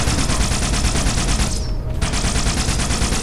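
Rapid, evenly spaced pistol shots in a video game fire in a continuous loud stream, broken by a brief pause with a short metallic ping before the firing resumes.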